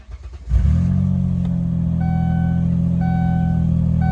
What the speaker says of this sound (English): Listen to this engine roar.